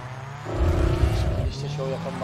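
A car engine in the GTA 5 video game swells into a loud revving roar before settling into a lower steady drone, with other game sounds and music layered over it.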